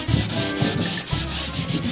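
Rapid, continuous scratchy rubbing as a small round sanding sponge works the edges of an old wooden furniture piece, close and steady with slight rhythmic swells from the back-and-forth strokes.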